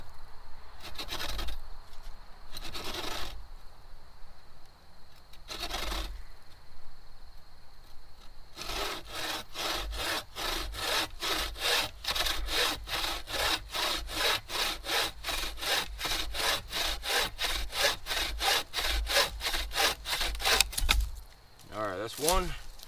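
A saw cuts through a wooden pole being trimmed for a tarp shelter, starting with a few separate strokes and then settling into a long run of fast, rhythmic back-and-forth rasping close by.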